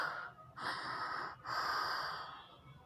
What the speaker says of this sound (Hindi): अभी वो तेज तेज हाँफ रही थी।